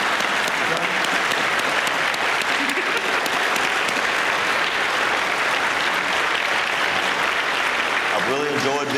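Sustained audience applause for a panel at a discussion event, filling the whole stretch at steady loudness, with a voice speaking at the very end.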